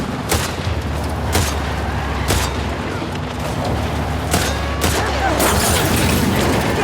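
Loud gunshots and booming blasts punctuate a tense firefight in The Last of Us Part 2, sharp reports every second or so over a constant rumbling background, with heavier explosive cracks toward the end.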